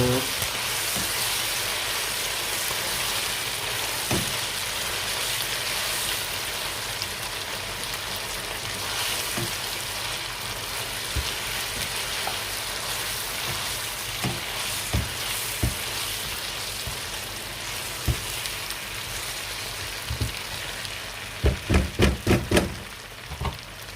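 Peshawari chicken karahi sizzles steadily in a pan while being stirred, a continuous fry with scattered scraping knocks and a quick burst of clacks near the end, with no voices.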